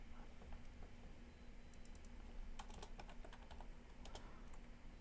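Code is typed on a computer keyboard in brisk clusters of light clicks, clearest in the second half, over a constant hum and hiss.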